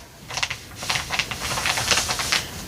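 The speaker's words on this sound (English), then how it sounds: "So what I'm going to do is just cut all the way to the edge." Scissors snip through towel fabric toward the edge in a quick run of close, crisp cuts, each bite clicking sharply in an uneven rhythm.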